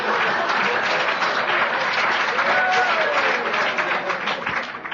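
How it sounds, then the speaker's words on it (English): An audience at a recovery roundup gathering in Huntsville, Alabama breaks into strong, sustained applause, a dense even clatter of many hands with some crowd voices mixed in. "I would have preferred not such a strong applause of agreement."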